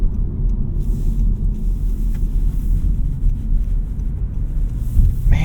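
Cabin of a 2023 Honda Civic EX 1.5T on the move, a steady low road rumble and engine drone heard from inside, loud and continuous with slight wind noise and a faint thump near the end, with no talk.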